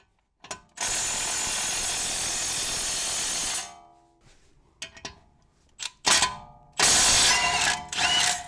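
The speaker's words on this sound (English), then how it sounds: "So I do have to get an impact for this one." Pneumatic impact wrench ratcheting loudly while loosening a lug bolt on a BMW E90 wheel, one long sustained burst followed by several short rattling bursts and clanks.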